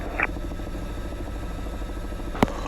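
Robinson R44 helicopter engine and rotor running steadily at an airfield, a continuous close, fairly loud drone with a brief sharp click near the end.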